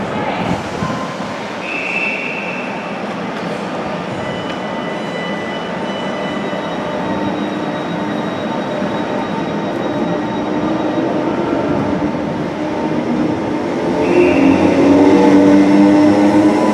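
Locomotive 31938 pulling a train away from a station, a steady rumbling rail noise with a faint high squeal, growing louder toward the end as wheels screech near the platform.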